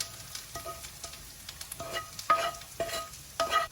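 Sambar masala goes into a pot of sambar and is stirred in, with soft scraping strokes over a faint sizzle, repeating in uneven bursts with no talk.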